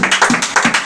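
A church congregation claps together in a short burst, with sharp, closely spaced hand claps that are loud and near and no talking over them.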